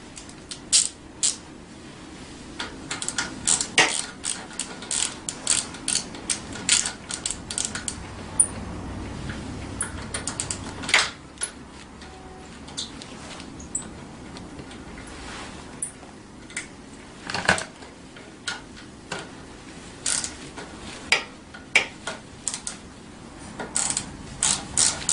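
A ratchet wrench with an 8mm socket clicks in rapid bursts while loosening a fastener during assembly of a Tao Tao 90 dirt bike, the close, sharp ratcheting repeating in irregular runs over about 25 seconds with no talk.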